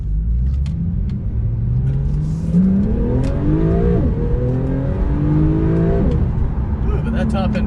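A Porsche 911 (991.2) engine revs hard toward high rpm, climbing in pitch in repeated pulls with shifts between them, a loud rumbling drone heard from inside the car, with someone talking over it.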